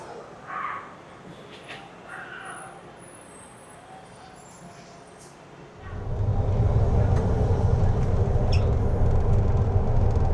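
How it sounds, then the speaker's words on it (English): A Miami public transit train pulls into a station, its low rumble rising sharply partway through and then holding loud and steady, after quieter platform ambience with a few faint voices. "here comes our train"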